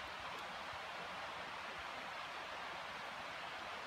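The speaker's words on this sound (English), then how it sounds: "Actually, you can hear the river pretty loud there." A river rushes nearby in a continuous, broadband roar of flowing water that stays even and fairly loud throughout, with no voices.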